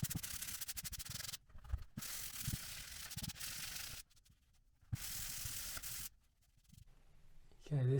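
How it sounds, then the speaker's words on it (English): Toupret quick dry filler is sanded by hand on a ceiling hole repair: steady, loud abrasive rubbing strokes in several bursts, broken by short silent gaps. "It sands really bloody well."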